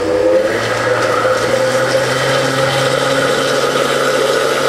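A kitchen blender whirs steadily while mixing batter as warm milk is added, a loud continuous motor hum with a slight rising pitch and no talking.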